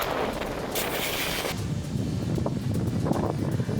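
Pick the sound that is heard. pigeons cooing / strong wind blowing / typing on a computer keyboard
strong wind blowing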